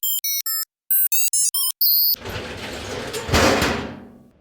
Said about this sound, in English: open the door of the box